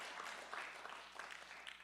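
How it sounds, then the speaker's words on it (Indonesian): Faint, distant applause from a church congregation at a Sunday service, a steady wash of clapping that holds for about two seconds. "Tepuk tangannya paling meriah."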